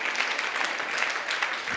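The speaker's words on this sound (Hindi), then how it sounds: "क्या बात है, तालियां," An audience at a sales training seminar applauds in a dense, continuous wash of clapping that holds steady and fairly loud throughout, with no talk over it.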